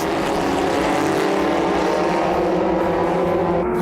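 Race cars speed around a circuit near turn 14 and the start-finish straight, heard from close to the ground as a loud, continuous engine roar that holds steady without a break for a few seconds.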